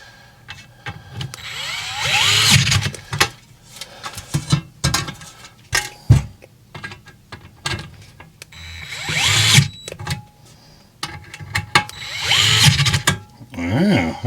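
A DEWALT 8V MAX cordless screwdriver driving screws back into wood, with three or four whirring motor bursts that rise in strain as each screw seats, separated by short pauses and clicks, close and loud.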